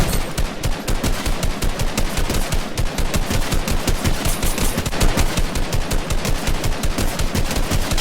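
Sustained rapid automatic fire from a Gray AR assault rifle in a video game, a steady, loud stream of closely spaced shots lasting throughout with no talking.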